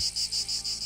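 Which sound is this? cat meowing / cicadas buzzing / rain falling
cicadas buzzing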